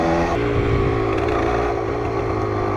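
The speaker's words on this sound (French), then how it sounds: "Faut vraiment lâcher l'embrayage d'un coup et mettre du gaz et pas hésiter." DTX 125 motorcycle engine revving hard for a wheelie, a close, continuous buzzing roar with shifting pitch and no talk over it.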